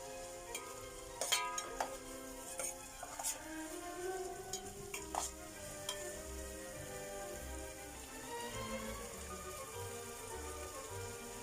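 Garlic, ginger and green chilli being stirred in a frying pan for a potato prawn roast, a soft, quiet sizzle with scattered scraping strokes over a faint tonal background.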